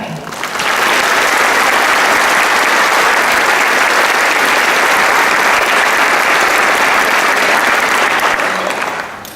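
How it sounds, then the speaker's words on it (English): An audience at a high school graduation ceremony breaks into loud, sustained applause for legislators, dense clapping that swells within a second, holds steady for several seconds, then tapers off at the end. "I'd ask that we give our legislators a round of applause"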